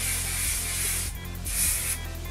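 A finishing spray hissing onto styled mid-length hair in a few close, loud bursts, with a brief pause between the sprays.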